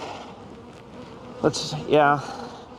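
Honeybees hum around a newly split hive. A low steady buzz runs throughout, with a couple of brief louder sounds near the end, including a short vocal sound.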